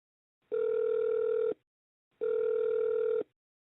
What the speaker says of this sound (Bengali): একদিন বিকেলে দীপ্তি ফোন করে মেঘনাকে।